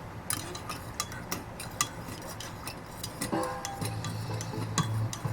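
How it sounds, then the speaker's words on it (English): Instant Myojo shio tonkotsu ramen broth stirred with a utensil against the bowl or pot, giving a string of light clicks and scrapes in an uneven rhythm, fairly quiet, with a low hum beneath and no voices. "Do a lot of stirring."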